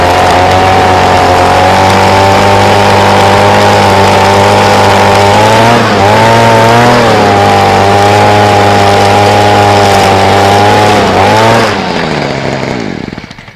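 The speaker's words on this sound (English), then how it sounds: "everything's cut straight into 90 with the line trimmer" A gas line trimmer edges along a sidewalk, cutting a straight 90-degree edge; its small engine drones loud and close with steady harmonics, dipping briefly twice as the throttle eases, then winding down at the end with no talk.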